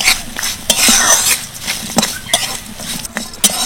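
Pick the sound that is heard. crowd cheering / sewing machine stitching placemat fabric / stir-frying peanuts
stir-frying peanuts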